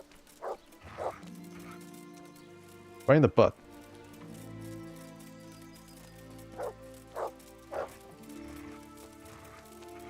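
Mutt, the dog in Kingdom Come Deliverance, barks in a quick double burst amid scattered shorter yips and clanks, with a voice speaking briefly over the game sounds.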